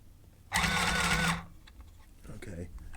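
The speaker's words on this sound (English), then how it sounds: "I'm trying to sew this around in a circle, even though like the fabric doesn't want to go that way" A sewing machine runs in one close, steady burst of under a second, stitching fabric around in a circle for a handmade Indian chess board, and a person speaks softly just after it stops.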